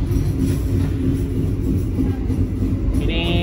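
Passenger train on Indonesia's southern line, with a steady low rumble of rolling wheels and carriage noise close by, continuous throughout, and a faint high squeal near the end.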